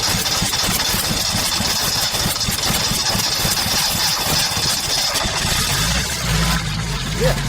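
A Lada Big Foot engine idles steadily just after a cold start, a continuous close mechanical drone with rough vibration that keeps running, and a low rumble swells near the end.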